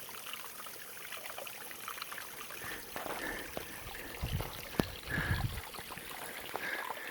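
A waterfall beside a wet, rocky climbing section of the Appalachian Trail gives off a steady, rushing hiss of falling water. It is fairly soft and unbroken throughout, with a few brief knocks and scuffs over it.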